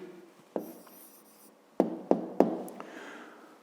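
A pen writes a maths answer by hand on paper, giving soft scratchy strokes and a few sharp taps in a quiet room, with no voices.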